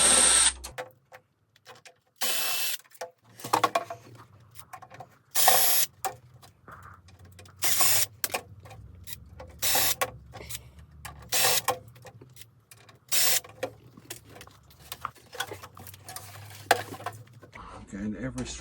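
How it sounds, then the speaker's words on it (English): Screws being undone on an old network switch box, with bursts of a small electric screwdriver whirring in short repeated runs and clicking metal handling between them, close, while someone talks. "Getting every screw there is undone."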